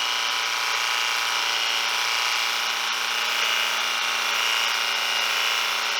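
A small budget portable pressure washer sprays steadily through a 40-degree nozzle, giving a loud, even broadband hiss with a pump drone beneath it, continuous with no breaks.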